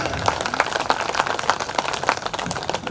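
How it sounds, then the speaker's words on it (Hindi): Audience applause at a large Hindi poetry gathering: dense, steady clapping from many hands with sharp individual claps throughout, moderately loud and close, without speech. "जोरदार तालियां।"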